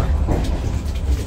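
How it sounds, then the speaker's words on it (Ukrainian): A passenger train in winter rolls along steadily, heard from inside a warm carriage as a continuous low rumble and rattle, with faint rhythmic clatter and no talk. "І зараз в теплі з таким чучук-чучук їдемо."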